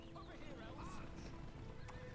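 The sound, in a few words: horse cavalry hooves in Battle for Middle-earth video game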